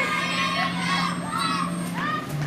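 Girls from a Trinidad cheer club cheer and shout in high, bright voices, a lively near group with overlapping calls and some talk mixed in over a couple of seconds.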